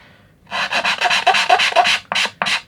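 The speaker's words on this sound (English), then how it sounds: "Maybe you do want to sand some wood." An aluminum sanding block with self-adhesive sandpaper rasps back and forth over a wooden corner, a run of close, loud, rhythmic scraping strokes followed by a few separate short strokes.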